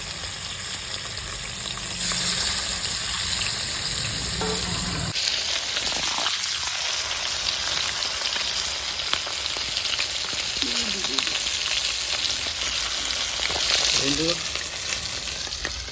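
Fish pieces sizzle in hot oil in a village-style kitchen, a loud continuous close frying hiss that shifts as more pieces are added, with brief soft voice sounds beneath.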